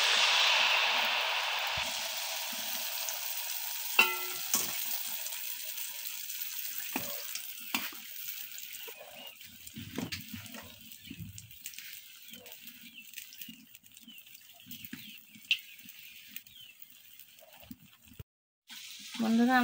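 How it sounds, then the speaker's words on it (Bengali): Mango pitha (aampoa) frying in oil one at a time, a bright sizzle at the start that settles into a quiet simmer with sparse clinks, stirs and handling noises heard close up. "আমি এক এক করে সবগুলো ভেজে নেব"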